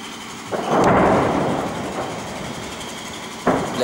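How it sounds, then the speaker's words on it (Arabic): A surface-to-surface missile strikes the town of al-Maliha near Damascus: a sudden deep blast rolls into a long, distant rumbling boom, followed by a second sharp onset of noise at the end. "قول صاروخ أرض أرض"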